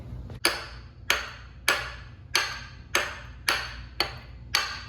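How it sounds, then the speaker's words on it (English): Eight loud, evenly spaced metal hammer blows strike a part being knocked off a Pontiac OHC-6 engine during a top-end teardown, each sharp ringing impact decaying quickly over a low steady hum, with no talking. "Get a hammer or a large rock."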